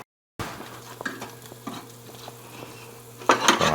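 Ribs sizzling in a pan indoors as they are flipped, a steady frying hiss with light scraping and clinks of a utensil, ending in a louder burst of sizzle, with no talk.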